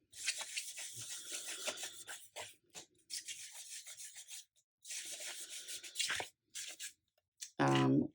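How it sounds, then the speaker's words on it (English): Paper or a craft surface is rubbed with a cloth to lift excess alcohol ink. Quiet, dry rasping strokes come in repeated bursts separated by brief pauses, with a short louder scuff at the very end. "now we're just going to rub off any excess"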